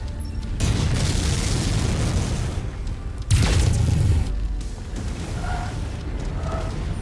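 Long-range missile volleys striking in the MechWarrior 5 mech combat game, a sustained rumbling barrage of explosions with a loud fresh burst midway, heavy low booms continuing throughout with no talk.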